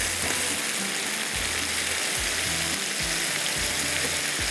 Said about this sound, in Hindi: मुझे इसको अच्छी तरह से फ्राई करना है